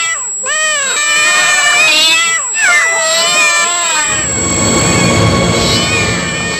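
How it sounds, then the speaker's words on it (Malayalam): Cats give a series of loud, wavering meows over a constant high-pitched tone, then the cries give way to a harsh, rough noise. "ഈ ഹൈ ഫ്രീക്വൻസി ശബ്ദം പൂച്ചകളുടെ സ്വഭാവം എങ്ങനെ മാറ്റുന്നുവെന്ന് കാണാം."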